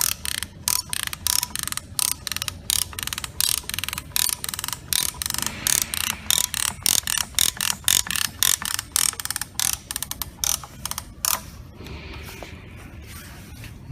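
A strap tensioner is ratcheted tight on a coupler repair, giving a fast, regular run of loud, close clicks for about eleven seconds before it stops, with no talking.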